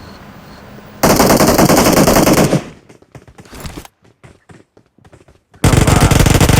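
Rapid automatic gunfire from a GROZA rifle in a mobile battle-royale shooter, loud and close: a dense burst, then scattered single shots and short gaps, then another sustained burst.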